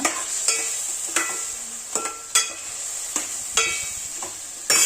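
Chicken curry masala fries in a pan with a tomato, green chilli and onion mixture and ginger paste. A bright, steady sizzle runs throughout, cut by rhythmic spoon scrapes and taps against the pan. No one speaks.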